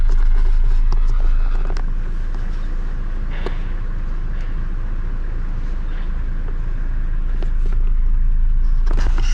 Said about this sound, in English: here come the cars from the other side